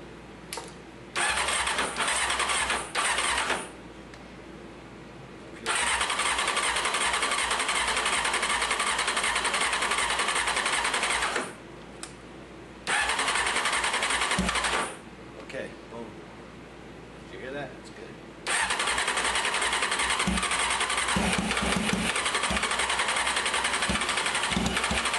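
A Honda sportbike engine cranks over in repeated long stretches of starter whirring, with brief gaps of quiet between attempts, fairly loud and close, while someone talks in between.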